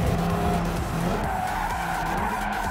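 Tires skid and squeal under locked brakes in the Gran Turismo 7 racing game, a steady continuous screech with engine drone running through the whole stretch, no talking.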